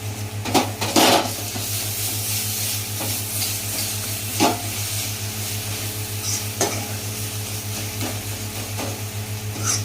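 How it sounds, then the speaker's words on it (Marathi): Cluster beans fry in oil in a pan and are mashed, giving a steady close sizzle with a droning hum under it and intermittent scraping, stirring strokes from a spoon against the pan. "आता ही जी गवार आहे ना, ही अख्खी राहिली, त्याला आपण थोडीशी अशी मॅश करून घेऊया."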